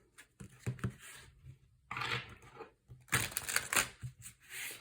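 Tarot cards being shuffled in several quick riffling bursts separated by short pauses, close and crisp, with no talking.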